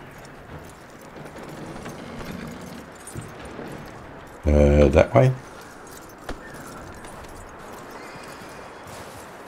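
Horse hooves clip-clop steadily at low volume in Red Dead Redemption II, with a brief louder burst of voice or horse sound partway through and someone talking over the scene.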